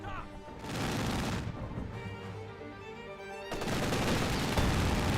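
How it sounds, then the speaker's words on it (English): Infantry gunfire against a vehicle in the Company of Heroes 2 video game, dense bursts of shots and booms in a loud, continuous battle mix, with a voice talking over part of it. "Infantry firing on our vehicle!"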